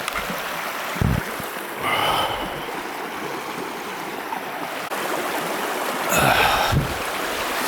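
Someone wades through a cold December stream, the water rushing steadily with a few louder splashes and sloshes from footsteps, close by and without talking.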